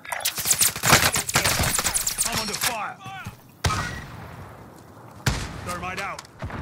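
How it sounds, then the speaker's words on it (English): Rapid gunfire bursts in a Call of Duty: Warzone match, loud and dense at first, then breaking off into quieter stretches with sudden sharp reports, under a player's voice and game chatter. "I'm under fire."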